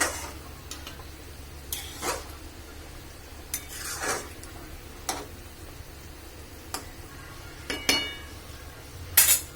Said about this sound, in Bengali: ছেড়ে দিয়ে একটু নাড়িয়ে দিতে হবে হালকা করে।